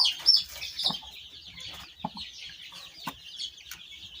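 A two-year-old black rooster of a Turkish breed gives several short, scattered clucks and a brief squawk, close and fairly quiet, with pauses between calls.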